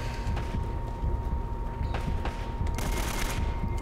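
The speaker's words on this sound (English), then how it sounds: "The hills are alive with the sounds of machine guns." Automatic machine-gun fire in a video game, a dense, loud continuous rattle of rapid bursts with sharper volleys near the end, no talk over it.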